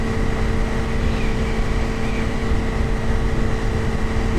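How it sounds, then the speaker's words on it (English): A small aircraft in Microsoft Flight Simulator X takes off down the runway, its engine giving a steady, loud droning hum with constant tones and no pauses. "gently pull the stick towards you, and the aircraft will fly off the runway"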